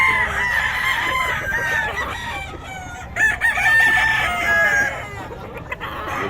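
Several roosters crow over one another amid a busy backdrop of clucking hens at a chicken market in Bocaue, the calls overlapping loudly and continuously.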